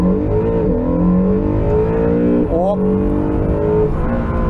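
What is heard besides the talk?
Honda NSX accelerating hard in launch mode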